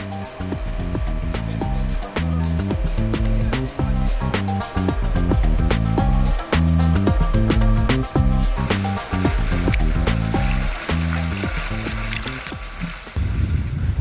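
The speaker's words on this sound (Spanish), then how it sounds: "En la playa de Rodiles dejamos el río Valdedios con un paseo en barca" A boat ride on the Valdedios river near Rodiles beach, with a steady loud rumbling engine and repeated rhythmic knocking throughout, near and continuous.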